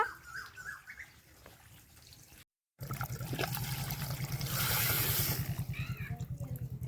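Tap water runs while clothes are washed at home, a steady close splashing stream after a short stretch of clatter and a brief cut, with a faint bird call.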